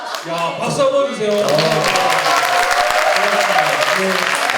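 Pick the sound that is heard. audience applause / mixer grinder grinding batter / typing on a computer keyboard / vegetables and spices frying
audience applause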